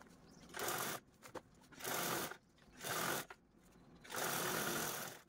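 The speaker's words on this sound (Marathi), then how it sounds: "आता यावरती पुन्हा आपल्याला अशा प्रकारे दाबटीप पण देऊन घ्यायची आहे" A sewing machine topstitches along a zip on a single piece of fabric for a makeup kit, running in four whirring bursts of about a second each with brief pauses between them.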